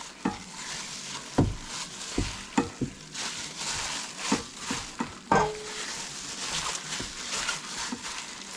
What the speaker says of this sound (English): You can get in there and mix it all up.